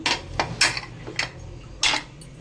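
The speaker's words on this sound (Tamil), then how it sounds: "இப்போ வந்து நல்லா கிண்டி விட்டுலாம்." Metal spoon scraping and clanking against a pressure cooker pot while stirring vegetable biryani, a few separate sharp scrapes spaced irregularly, fairly close and moderately quiet, with no talking.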